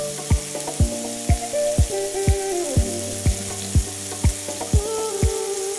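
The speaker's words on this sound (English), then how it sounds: "listen to that sizzling sound" Burger patties sizzle steadily in a hot frying pan, a constant bright hiss with crackles, while soft plucked musical notes repeat in the background.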